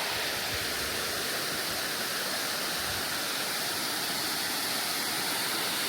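Water rushing through a sluice-like river channel near a parked van, a dense, constant roar that holds steady throughout without any voices.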